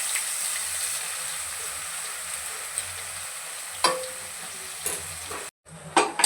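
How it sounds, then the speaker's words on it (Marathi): Onion, ginger and garlic masala paste sautéing in a pan with a pinch of asafoetida, a steady close sizzle with occasional spoon scrapes and stirring knocks. "मिक्स करून घेऊया आणि मसाला आहे ना छान असं 2 मिनिटं परतून घ्यायचं आहे"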